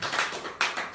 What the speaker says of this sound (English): Let's clap our hands for that God.